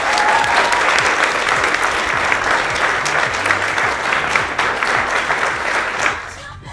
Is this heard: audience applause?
yes